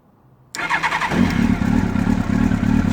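A cold carbureted motorcycle engine cranks with the starter, catches after about half a second and settles into a loud, close, slightly lumpy idle.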